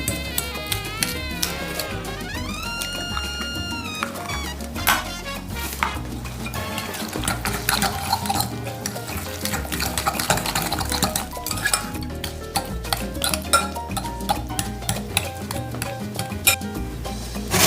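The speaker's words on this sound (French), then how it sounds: "Et on mélange le tout jusqu'à obtenir une crème" Ricotta, sugar and egg being stirred into a cream in a bowl, continuous close scraping and clinking of a utensil against the dish with a rhythmic, busy texture, while background music plays.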